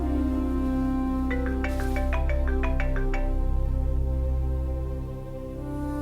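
A phone rings indoors with a short melodic ringtone, a quick run of bright electronic tones over a steady background drone, then stops.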